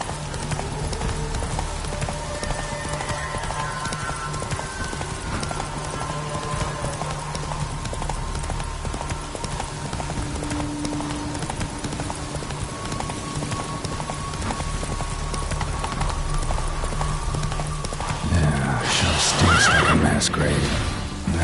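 Roach, Geralt's horse in The Witcher 3, clops along in steady hoofbeats with a whinny, over game ambience and a soft patter of rain, and louder clattering and noise builds near the end.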